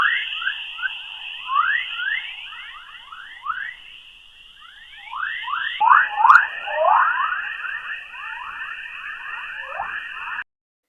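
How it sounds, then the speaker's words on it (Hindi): Earth's sound as a space recording: dense, rapid swooping chirps and whistles over a continuous high whine, with a brief shift midway, like an eerie electronic chorus, moderately loud and unbroken for about ten seconds without speech. "अब हम आपको अपनी पृथ्वी की आवाज को सुनाएंगे,"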